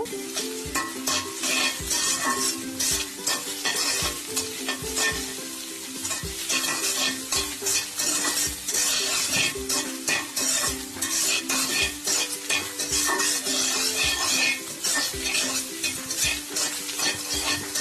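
Beaten egg for an egg bhaji frying in a pan, stirred hard with a spatula: continuous loud sizzle under rapid, clattering scrapes against the pan, close and busy throughout, with no talking.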